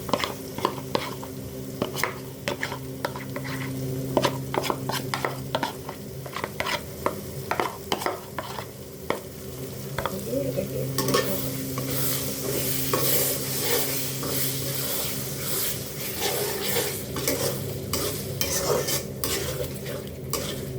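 Spiced meat for tehari fries in a pan while being stirred, with frequent sharp utensil scrapes and clicks over a steady sizzle that grows louder and denser midway, close up with no talking.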